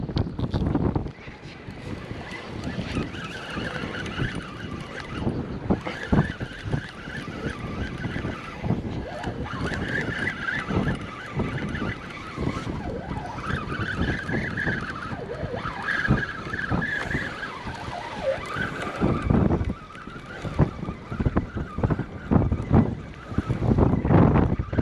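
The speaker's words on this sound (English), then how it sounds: "That wind sucks." Strong wind buffets the microphone on a beach during surf fishing, a loud continuous roaring rumble with gusty fluctuations lasting the whole time and no clear talk over it.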